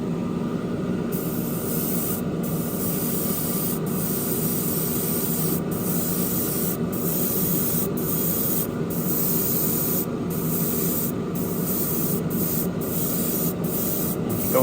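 Spray paint hisses in a steady, continuous stream as a coat goes onto the seats of an AMT Corvette ZR1 model kit, with a rhythmic series of faint high clicks running through it and no talk.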